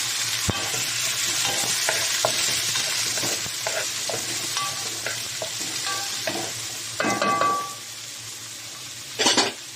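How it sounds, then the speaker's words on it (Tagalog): Garlic, onion and tomato sizzle in a hot pan for ginisang repolyo, with steady frying hiss broken by repeated clinks and scrapes of a utensil stirring against the pan. "nag-isa-gisa na natin ng kamatis"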